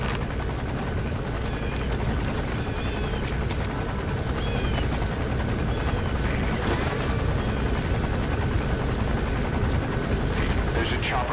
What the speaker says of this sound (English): There's a chopper landing.